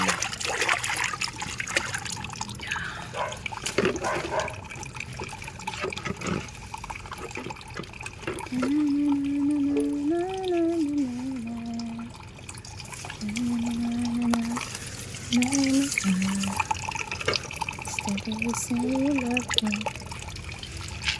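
Water runs and trickles steadily as a stone is rinsed, a close continuous splashing flow heard under a person's humming and intermittent talk.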